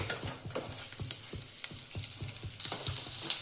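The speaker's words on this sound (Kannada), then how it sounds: "ಇದನ್ನ ನೀಟಾಗಿ ಫ್ರೈ ಮಾಡ್ಕೊಳ್ಳೋಣ" Garlic and cashews sizzle steadily in a hot pan, a dense crackling hiss punctuated by regular scraping stirs of a spoon, rising brighter near the end; no voices, for a dhaba-style paneer masala base.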